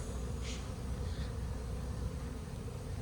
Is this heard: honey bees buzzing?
yes